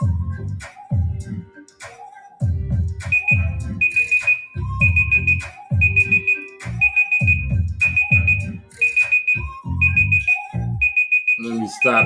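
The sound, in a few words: timer alarm going off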